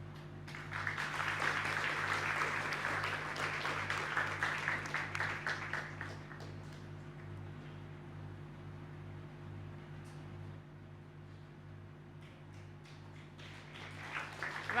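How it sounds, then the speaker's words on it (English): Applause from an audience at a national schools debate grand final, a dense spell of clapping that fades after about six seconds into a steady hum of room noise and fans. "Round of applause, guys."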